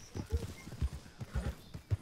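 Horse hooves clip-clop in Red Dead Redemption 2, a quick irregular run of close, soft thuds across two seconds with no talk over them.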